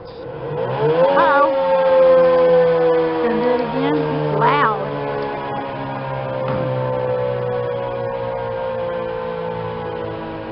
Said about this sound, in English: That was our tornado siren.